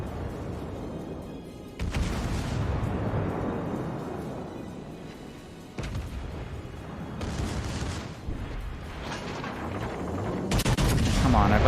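Ship guns fire in World of Warships Legends, several loud booming salvos at irregular intervals, each with a sharp onset and rolling decay, over steady game background rumble.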